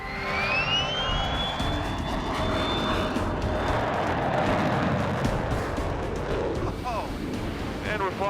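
Loud jet aircraft roaring down a runway on takeoff, engine noise building into a steady broadband rush with a rising whine, continuous and close throughout.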